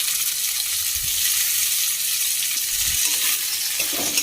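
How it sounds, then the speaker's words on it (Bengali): Tomatoes added to frying onions set off a steady, close sizzle, with a couple of low stirring bumps from the spoon underneath and no speech. "পেঁয়াজটা হয়ে এসছে, এবার টমেটো দিচ্ছি।"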